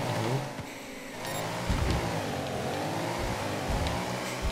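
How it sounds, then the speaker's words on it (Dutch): A motorbike engine in the video game Trials Rising revs and whines up and down continuously, a loud buzzing drone with surging accelerations and no voices over it. "Een leuke motor, hè, dit."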